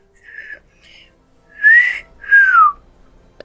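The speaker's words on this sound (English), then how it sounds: "Yeah, I can't whistle that well." A person whistles a few short tonal phrases, the last two louder with rising and falling pitch, heard alone during an Animal Crossing: New Horizons play session.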